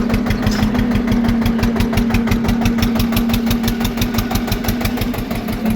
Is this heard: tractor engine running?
yes